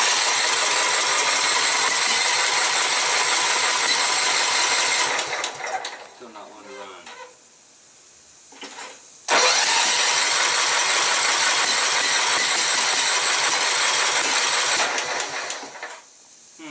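A John Deere engine cranks with a fast, rhythmic mechanical chatter and then runs loud and steady. It cuts out into a brief lull, then starts again and keeps running close by, with no talk over it.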